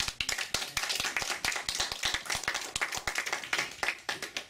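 Congregation clapping in a Korean church service: rhythmic, fairly sparse hand claps with distinct individual sharp strikes at a steady pace, moderately quiet and without talk.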